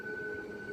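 A MEMU passenger train pulls up at a platform of Ramagundam railway station, giving a steady, close rumble with a sustained metallic whine over it and no voices.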